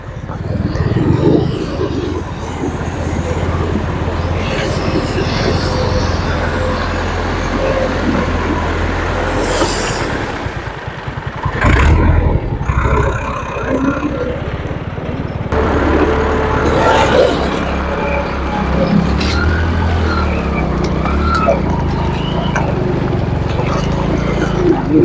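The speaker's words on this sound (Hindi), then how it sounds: "ट्रैक्टर लगी हुई है।" A tractor engine works to clear gravel at a flooded river crossing with no bridge, its steady low rumble running throughout alongside rushing water and wind noise, with brief voices and clatter midway.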